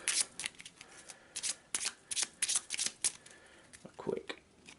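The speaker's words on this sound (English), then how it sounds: "Quick shuffle." A deck of cards for the board game Gloom of Kilforth is shuffled quickly and close by, a run of crisp riffling bursts and soft flutters with short gaps between them. No one speaks.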